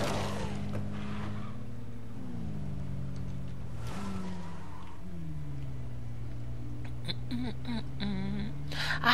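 A car driving in the State of Decay video game: a continuous engine drone that rises and falls in pitch as it revs and shifts, with brief clanks, close and steady throughout.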